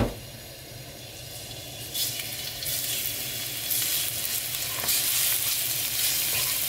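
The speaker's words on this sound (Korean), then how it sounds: "이렇게 마늘을 살짝 볶아줄게요" Minced garlic stir-fried in a hot pan for a home side dish: steady close sizzling that grows louder over several seconds, with occasional scraping stirs and no talking.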